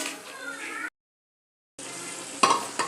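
Fish pieces being stirred and turned in a hot pan while cooking a fish curry with winter vegetables, a close sizzle interrupted by a silent gap, then scraping and sharp clinks of the utensil against the pan.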